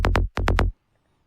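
Processed techno or trance bass synth with effects stabs out five short bright hits in a quick off-beat rhythm, two then three, loud and isolated before a soft fading tail.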